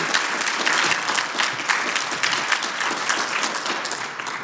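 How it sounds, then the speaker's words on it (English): A crowd at the MBK Pathways to Success Summit applauds the President of the United States. Steady, dense clapping fills the room and fades slightly toward the end. "give a rousing round of applause for the President of the United States"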